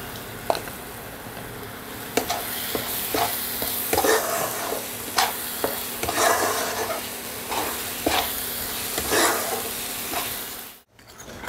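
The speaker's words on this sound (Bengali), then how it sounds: "মশলা কষানো হয়ে গেছে" Ground spices and black pepper powder sizzling in a pan while a spoon stirs them, a continuous close fry with repeated scraping strokes over about ten seconds, ending in a brief pause.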